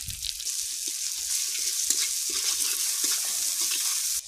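Onion, green chili and five-spice seeds fry in rohu fish oil, giving a steady close hiss and crackle of sizzling that runs the whole time with a few small pops and no talk.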